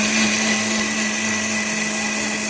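An electric mixer grinds fennel, shallots, coriander and chili powder into a smooth paste for fish curry, giving a loud, steady high-pitched whirring drone that runs unbroken for the whole moment without any talk.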